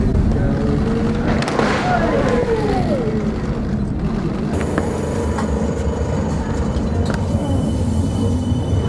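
A tram pulls away from Grand Central stop on a rail line toward Wolverhampton, with a low rumbling roll, squealing wheel tones and a rising whine, while people talk over it.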